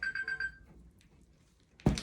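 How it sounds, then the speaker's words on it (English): An alarm rings in short repeated electronic bursts for about half a second, fairly faint indoors, followed by quiet and a sudden knock near the end. "no, the alarm"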